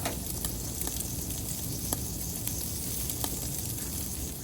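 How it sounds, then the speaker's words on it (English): Meat sears on an infrared grill, a steady broadband sizzle with faint crackles running the whole time, close and even in level with no voices. "And we push it back in. And sear the other side."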